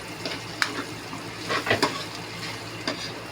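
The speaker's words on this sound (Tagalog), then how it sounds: "Ngayon po, lalagyan na po natin ang ating bawang." Garlic fries in annatto-tinted oil in a pan over a high flame, giving a steady close sizzle with a few clinks and stirring scrapes on top.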